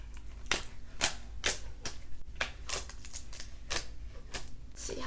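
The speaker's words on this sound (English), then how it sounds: "And now I am just gonna cut this thing open." A package being cut open at close range, a series of sharp clicking snips and scrapes spaced irregularly over a few seconds, with no speech.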